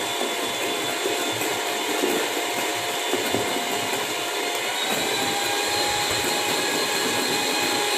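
An electric hand mixer whipping cream in a bowl, a steady high-pitched motor whine with constant whirring, continuous and close without pauses.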